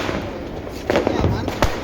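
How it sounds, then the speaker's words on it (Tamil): During Diwali celebrations, big firecrackers go off in sharp, loud blasts, with a couple of distinct bangs over a noisy outdoor background while people talk. "அப்பா பெரிய வெடி வைக்கிறாரு."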